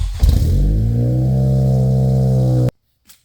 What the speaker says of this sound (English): We are now going to want to back the car off the ramps